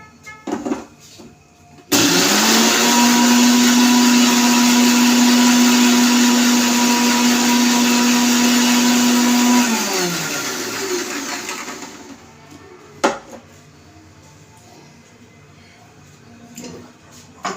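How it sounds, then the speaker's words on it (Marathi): A kitchen mixer grinder whirs loudly for about eight seconds while blending green chilli and water for pani puri, starting abruptly, holding a steady motor whine, then spinning down, with brief clatter afterward. "फिरवून आणते थोडंसं मिक्सरमध्ये"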